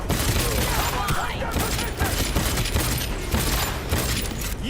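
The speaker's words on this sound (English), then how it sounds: "Someone's sniping me through the floor." Sniper rifle fire in Cyberpunk 2077 mixed into a dense, noisy wash of combat sounds, with sharp cracks scattered throughout under a speaking voice.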